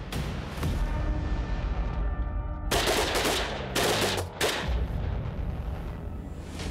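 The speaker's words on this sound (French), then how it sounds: "They will be firing assault rifles." Assault rifles fire in bursts during Swiss military training, sharp volleys of gunshots cracking loud and dense, broken by brief gaps over a steady rumbling background.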